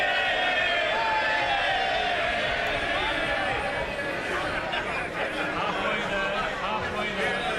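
Boisterous House of Commons MPs cheering and murmuring before Prime Minister's Questions, a dense continuous crowd roar with babbled voices, loud and sustained throughout.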